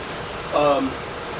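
Steady rain falls outside, an even hiss of drops filling the background throughout, while a voice speaks briefly over it.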